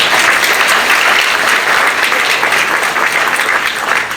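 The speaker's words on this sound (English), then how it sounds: "So let's give them a great round of applause." Loud, sustained applause from a crowd at an Eid ul Fitr celebration in New York City, dense clapping that holds steady throughout with no gaps.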